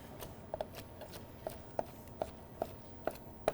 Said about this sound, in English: we're gonna give this a quick little rough chop